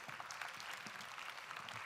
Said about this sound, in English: Please help her with another round of applause